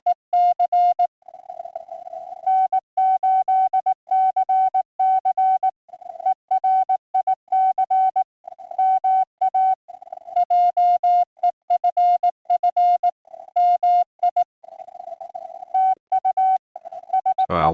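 Morse code from two stations sending on the same amateur radio frequency, a steady tone keying in continuous dits and dahs with overlapping, irregular rhythms for the whole stretch, ending in a brief burst of noise.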